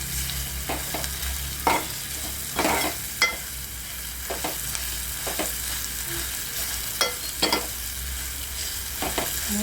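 Hot oil crackles and spits steadily in a cooking pan, with sharp pops scattered throughout and a low hum beneath; close and fairly loud, with no talking.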